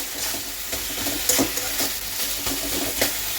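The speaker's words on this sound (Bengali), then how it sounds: "এই যে টমেটো আর আলুগুলোকে এখন একটু ফেটিয়ে দেবো, থেতো করে দিচ্ছি" Tomatoes and potatoes are mashed in a hot pan for a Bengali cabbage dish, a soft continuous sizzle with repeated dull pressing and scraping strokes at a steady pace.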